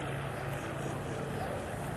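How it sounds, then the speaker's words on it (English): A four-engine Lockheed C-121 Constellation propeller airliner makes a slow fly-past with gear and flaps down at the Fairford airshow, giving a loud, steady droning roar with a low engine hum that holds evenly throughout. "So as Captain Frank Lang brings the C-121 Connie round from the right, you can see he's got the gear down for a slow fly past"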